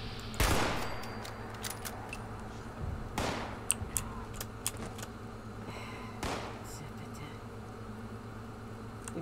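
Gunfire in the video game Fallout 76 comes as three sharp, loud shots spaced a few seconds apart, over a steady game background with occasional small clicks and some talk.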